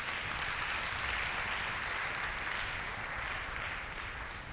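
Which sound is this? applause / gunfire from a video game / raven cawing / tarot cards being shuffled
applause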